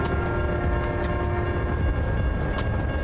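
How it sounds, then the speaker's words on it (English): A train rolls past in American/Euro Truck Simulator, a steady, loud rumble of rolling wagons with sustained horn-like tones running throughout, no talking over it. "the trains are actually getting a little bit longer in the game"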